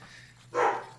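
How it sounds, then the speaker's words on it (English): A single dog bark sounds once in the background, short and moderately loud, with no talking over it. "I don't know if you can hear that. That's my dog in the background."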